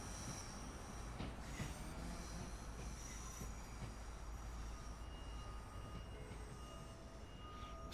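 A Pendolino train pulls away in the Train Sim World 5 game, a distant rolling rumble with squealing wheels and occasional clattering, steady and faint, with no voices.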